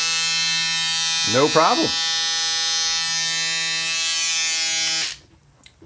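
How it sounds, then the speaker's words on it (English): A Remington electric shaver running off a bench power supply hums with a steady, loud buzz for about five seconds before cutting off, with a brief spoken remark over it partway through. "Let's see if I can shave now."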